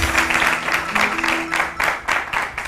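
Studio audience on a Pakistani morning talk show clapping in bursts, fairly close and steady, with a few louder swells.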